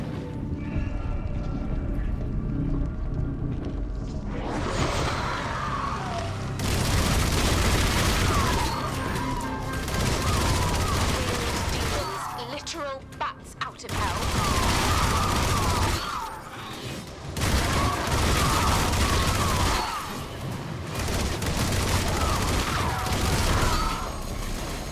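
Firearm gunfire in Armatus, a third-person roguelike shooter, with long loud bursts of rapid shots broken by brief pauses, dense, continuous and close.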